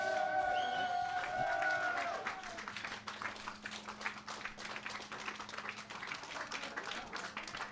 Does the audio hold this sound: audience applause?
yes